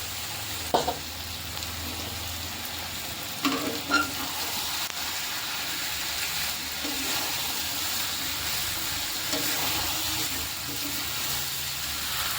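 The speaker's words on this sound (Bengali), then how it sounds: "একসাথে সব কিছু ভালো করে কষিয়ে নেব।" Fried potatoes and raw jackfruit sautéing together in a cooked spice masala with goat fat, a steady broad sizzle with a few scraping stirs early on, close and continuous.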